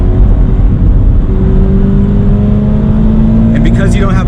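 A 2020 Toyota GT86 Hakone Edition downshifting into third for a corner, the engine droning loud and close with a rising tone as the revs climb, a brief high whine near the end.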